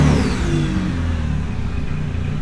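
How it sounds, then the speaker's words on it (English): Mitsubishi Evo with about 160K miles, its engine running steadily after start-up, a loud and close mid-range motor hum with low harmonic rumble that swells slightly into a rev before settling, with no voices. "Let's go ahead and start the car."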